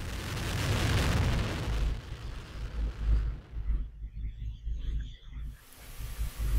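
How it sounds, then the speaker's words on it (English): A Delta II rocket's engines ignite at liftoff, a heavy, loud roaring rumble that swells and then breaks into crackling, uneven bursts as the launch noise rolls in from a distance. "Engines start and liftoff of the Delta II rocket with SMAP"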